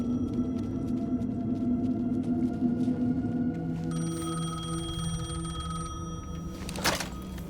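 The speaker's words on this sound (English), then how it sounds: "The payphone was ringing." A payphone rings in the video game Alan Wake 2, a bright repeating electronic ring rising over a droning ambient background, loud and close.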